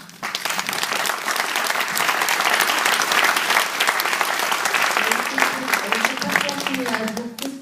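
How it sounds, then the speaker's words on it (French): An audience claps loudly at a Syrian cultural evening in Metz, a thick, close burst of applause that swells and holds, with a voice emerging near the end. "on va soutenir ces mots du cœur par des applaudissements"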